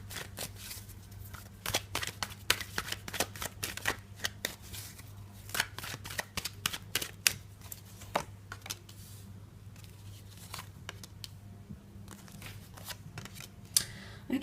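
Tarot cards are shuffled and drawn in a quiet room. Crisp riffling snaps and flicks come in irregular clusters, close and fairly soft, with a low steady hum beneath and no voices.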